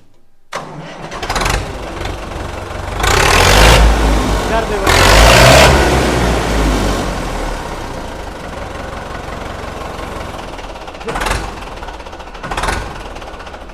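A car engine cranks and catches, revving loudly in two bursts before settling into a steady, slightly knocking idle; a couple of short sharp knocks sound near the end, with a person talking nearby.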